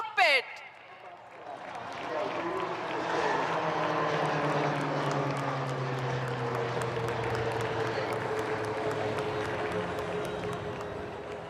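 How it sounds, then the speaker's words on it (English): An HTT-40 trainer aircraft flies in an aerial display over Marina Beach, Tamil Nadu. A steady propeller drone swells and holds with a slowly falling pitch under a distant crowd, while an announcer speaks over loudspeakers. "the HTT-40 aircraft for the first time ever in an aerial display"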